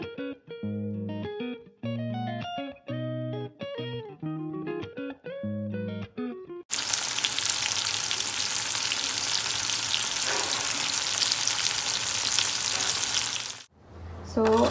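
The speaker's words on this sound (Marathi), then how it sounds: "तेल जे आहे ना ते छान गरम झालंय आणि आता आपण एक एक असा प्रॉन्स जे आहे ना ते त्यामध्ये" Prawns frying in hot oil, dropped in one by one, giving a loud, dense, continuous sizzle that starts abruptly after a stretch of background music and runs steadily until a brief cut near the end.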